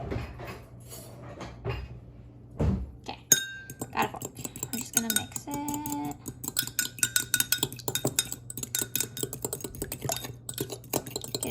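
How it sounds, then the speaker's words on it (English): A utensil clinks and scrapes in a bowl while egg is mixed into ingredients for Italian bread dough, giving quick irregular taps and rattles, close and fairly loud, with a faint voice in the background. "And I'm just gonna mix it."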